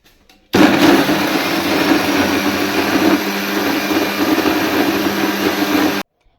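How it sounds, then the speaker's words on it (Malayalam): A mixer grinder whirs loudly and steadily for several seconds, grinding egg and coconut appam batter to a paste, starting and stopping abruptly with silence on either side. "ഇത് നമുക്ക് മിക്സിയിലിട്ടിട്ട് നല്ല പോലെ ഒന്ന് പേസ്റ്റ് പരുവത്തിൽ അരച്ചെടുക്കാം"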